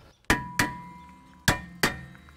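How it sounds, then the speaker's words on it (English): A hammer strikes a rear brake rotor on a 2011-2020 Toyota Sienna AWD to jar it loose from the hub: four sharp, close metallic blows with a brief ringing tail, in two pairs, with no talk. "We're gonna tap on it with a hammer, cause some vibration, and that'll break it loose from the hub."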